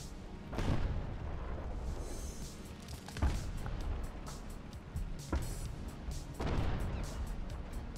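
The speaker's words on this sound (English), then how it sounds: "Everything is just exploding" Repeated heavy explosions and booming impacts in a Churchill tank battle video game, several sharp blasts spaced a few seconds apart over a constant rumbling background of engine and battlefield noise.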